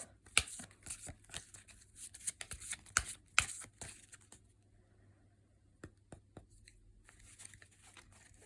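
Fairy oracle cards are shuffled and pulled by hand, with quick crisp riffles and flicks close up, then quieter sparse taps and slides of cards.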